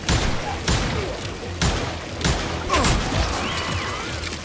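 Gunfire in the Western shooter Call of Juarez: Gunslinger: several loud, sharp shots come at irregular intervals over a steady game backdrop, with some ringing effects.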